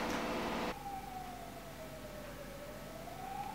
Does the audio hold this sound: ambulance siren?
yes